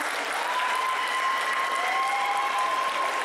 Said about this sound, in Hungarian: nagy tapsot kérek szépen még egyszer a legjobb csoportnak.